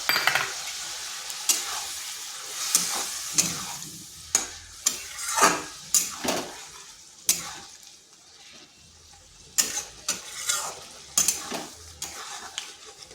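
Ginger and a ground spice paste cooking in a pan, with steady sizzling broken by repeated scraping and clinking stirs of a utensil against the metal, close by and fairly loud, no voices.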